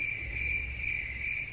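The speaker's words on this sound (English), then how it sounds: "Crickets." Crickets chirp in a steady, continuous high trill, soft and even throughout, with no other sounds.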